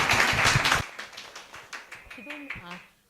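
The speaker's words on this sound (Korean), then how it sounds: "박수 한번 주십시오" A short burst of applause from a church congregation during a QT seminar, lasting under a second before fading. Voices follow afterward.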